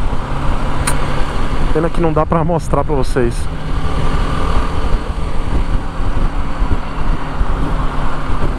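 Road traffic heard while riding a BMW G310 GS motorcycle on busy city streets: a steady rumble of engines and wind that continues throughout, with someone talking briefly partway through.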